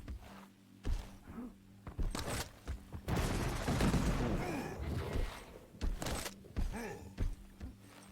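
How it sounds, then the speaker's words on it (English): Gunfire from a competitive Quake Pro League match, with repeated bursts of shots and impacts from close range, some sharper weapon blasts standing out against a busy layer of game effects. "Shots coming out."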